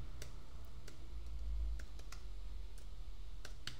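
Computer keyboard typing during a Java Spring Boot programming lesson: scattered light clicks and key taps, irregular and fairly close, over a low steady hum with no talking.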